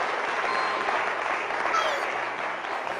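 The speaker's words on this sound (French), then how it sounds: "applaudissements pour Bastien, quand même" Audience applause fills the space, dense and steady throughout at a fairly loud level.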